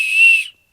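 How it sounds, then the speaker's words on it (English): A plastic emergency whistle packed with a Temu sleeping bag gives one short, shrill, close blast lasting about half a second, then stops abruptly. "One thing I learned while opening this is they come with whistles."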